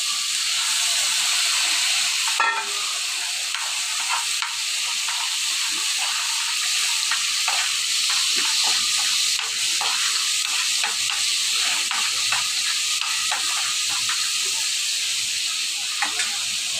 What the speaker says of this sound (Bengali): আমি এখানে একটু দিয়ে দিচ্ছি জল